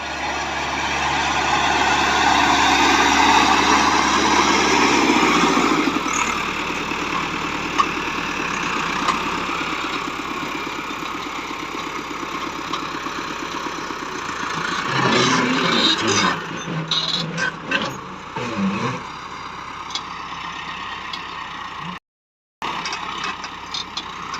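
Massey Ferguson 375 tractor with a Stanadyne fuel pump runs a steady, loud diesel drone on farmland, easing off partway through, with mechanical clatter toward the end and a brief dropout.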